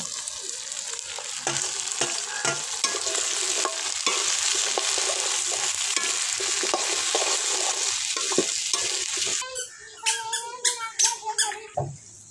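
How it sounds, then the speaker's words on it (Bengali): Vegetables fry lightly with spices in a village kitchen pan, giving a dense, close sizzle broken by squeaky scraping of the spoon. Near the end the sizzle drops away and leaves a few louder metallic scrapes and clatters. "মশলাগুলোর সাথে সবজিগুলো হালকা করে একটু ভেজে নিচ্ছি"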